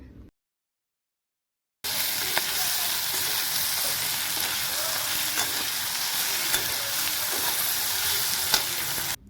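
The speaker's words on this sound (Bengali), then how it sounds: "এই যে মাছের তেল দিয়ে কুঞ্চ আলু চচড়ি করেছে" Potato chochchori cooking in a pan with fish oil, a steady close sizzle and frying hiss that starts abruptly after a moment of silence and continues evenly with faint stirring scrapes.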